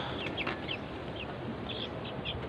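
Chicks and chickens in a coop, faint and somewhat distant, give scattered short chirps and clucks over a steady background hiss.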